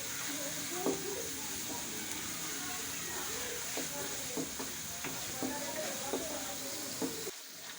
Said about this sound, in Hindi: माशाल्लाह से हमारा मसाला अच्छे तरीके से भून चुका है